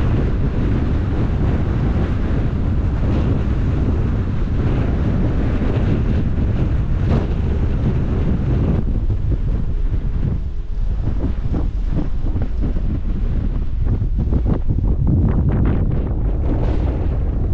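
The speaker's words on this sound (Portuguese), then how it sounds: "Tá ventando muito." Strong wind buffets the microphone at a high mountain lookout, a loud continuous low roar that gusts and rumbles throughout with no speech.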